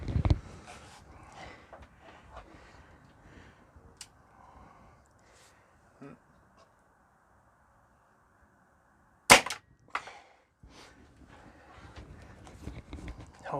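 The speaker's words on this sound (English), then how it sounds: "Cock it. Or let me cock it. I'll shoot this one." A Crosman Shockwave .22 caliber pellet rifle fires one sharp, loud crack outdoors after a quiet stretch, with faint handling noises and soft background sounds around it.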